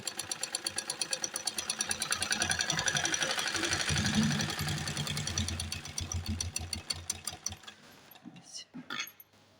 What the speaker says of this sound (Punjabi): ਆਪਾਂ ਨੇ ਸਲਵਾਰ ਦੀ ਸਿਲਾਈ ਲਾ ਲਈ ਆ